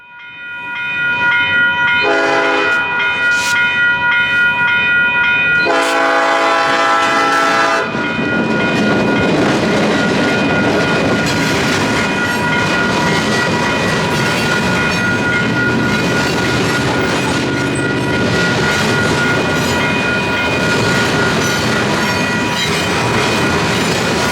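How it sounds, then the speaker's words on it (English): A train sounds two long horn blasts at a road crossing, then rolls past loudly and close, wheels clattering and squealing steadily over the rails for a long stretch. "catching the train crossing 1st Street on the outskirts of the downtown area"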